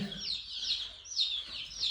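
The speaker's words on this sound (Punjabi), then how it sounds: "ਸਾਡੀ ਮੁਰਗੀ ਥੱਲੇ ਨਾ 22 ਆਂਡੇ ਰੱਖੇ ਸੀ, ਮੇਰਾ ਖਿਆਲ 21 ਬੱਚੇ ਨਿਕਲੇ ਆ" High, soft chirping and peeping of newly hatched chicks with some low clucking from the mother hen, continuous and fairly close, no talking.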